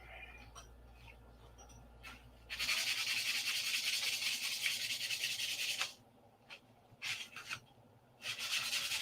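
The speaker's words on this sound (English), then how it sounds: "get that sanded off." A P-47 model is sanded by hand in long, close rubbing strokes. One sustained stretch of scraping is followed by shorter bursts, with quiet gaps and small handling knocks between them.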